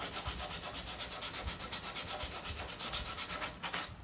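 Wood is sanded by hand in a workshop, after a rounded piece is cut, giving a rhythmic scratchy rubbing made of quick back-and-forth strokes, close and steady, with no talk.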